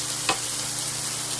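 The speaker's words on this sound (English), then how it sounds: "I'm going to also add my chopped garlic." Chopped garlic goes into a hot frying pan, giving a steady, fairly quiet sizzle with one short stir or scrape near the start.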